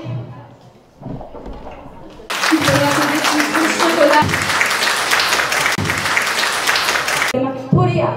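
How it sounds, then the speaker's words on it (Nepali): A seated audience at a women's investment fair plenary session in Nepal breaks into loud, sustained applause for three panelists, preceded and followed by a host speaking through a microphone. "सम्पूर्ण हाम्रो तिनजना प्यानलिस्टहरूको लागि चाहिँ जोरदार ताली बजाइदिनु हुनका लागि अनुरोध गर्दछु"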